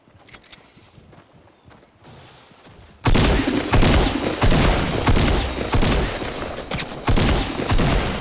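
Video-game shotgun gunfire erupts after a quiet start, with loud repeated blasts in quick succession over a dense din, following a few faint footstep-like taps.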